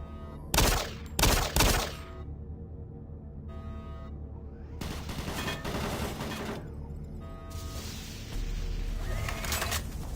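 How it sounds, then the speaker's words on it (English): Automated turret guns in Doom 3 open fire with three sharp, loud bursts close together, followed by longer stretches of rapid machine-gun fire with mechanical whirring in the pauses. "Warning. Automated turret guns online."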